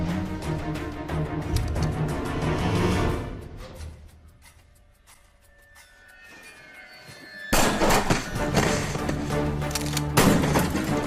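Rapid, loud bursts of gunfire crackle through an action movie shootout, fading into a quieter lull before a dense, booming volley erupts again, with no clear talk over it.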